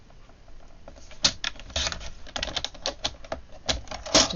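Paper being cut into 4 centimeter wide strips for a card, a run of crisp, irregular snips and clicks of varying loudness, close by, with no talking.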